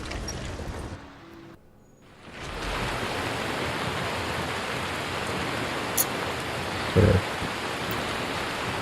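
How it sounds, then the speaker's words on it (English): Heavy rain in Skyrim near Falkreath, a dense continuous hiss that swells in after a brief lull and then holds steady, with a couple of short bumps and clicks on top. "Okay, it's raining."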